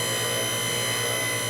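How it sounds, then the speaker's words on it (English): Steady mains-like hum with many fixed harmonic tones from a hydraulic bender pump driven by a Baldor Reliance electric motor, running continuously and close with no variation. "Here's the sound of the pump"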